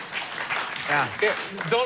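A late-night talk show studio audience breaking into applause and laughter, a broad crowd clapping under a voice as he keeps talking.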